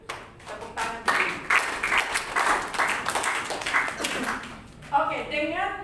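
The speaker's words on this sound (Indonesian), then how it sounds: "Tepuk tangan dulu." A church audience claps in a brisk burst of applause. A voice speaks over it near the end.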